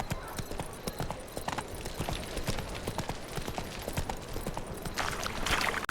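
Hooves of Geralt's horse Roach in The Witcher 3: steady rhythmic clip-clop of a ridden horse, loud and close, continuous throughout over faint background ambience.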